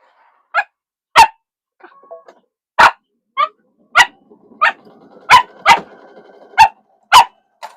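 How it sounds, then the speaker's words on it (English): A dog gives a run of sharp, high-pitched barks, about a dozen separate yaps spaced irregularly, loud and close, with faint whimpering between them and no talking. "He's got such a high-pitched bark, I'll tell you."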